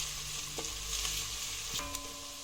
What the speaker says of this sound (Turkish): Üzerine bir yemek kaşığı biber salçası ekleyerek güzelce karıştıralım.